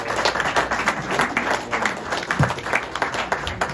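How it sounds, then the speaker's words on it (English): Church congregation clapping hands in praise during a sermon on prayer, a steady, dense patter of many hands filling the room, with some voices mixed in. "Give God a hand clap"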